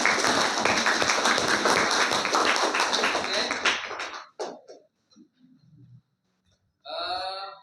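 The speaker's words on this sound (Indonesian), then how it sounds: "sekali lagi tepuk tangan buat kita semuanya" Classroom of students clapping their hands together, loud dense clapping for about four seconds that breaks into a few scattered claps and fades, followed by a short burst of voices.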